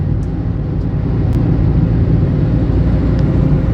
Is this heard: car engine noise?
yes